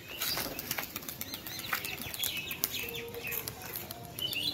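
Young pigeons released from a home loft burst into flight, a quick flurry of flapping wings close by, with faint chirps and clucks in the quiet early-morning background.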